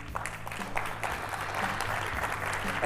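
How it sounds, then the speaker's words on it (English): An audience at a telecom industry conference applauds a speaker coming on stage, a moderate, continuous spatter of many hands heard at some distance, with a low hum beneath it. "let's give him a warm round of applause, please"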